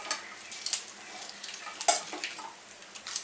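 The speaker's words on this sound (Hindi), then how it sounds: "इसे अच्छे से हम भून लेते हैं।" Dry coconut roasting and being stirred in a pan, with intermittent scraping and tapping of a spatula against the metal in short, irregular strokes at close range, no talking.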